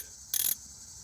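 A quick burst of ratcheting clicks comes from a 1/2-inch round head fine tooth ratchet, a short, close, sharp whir lasting about a quarter second amid quiet.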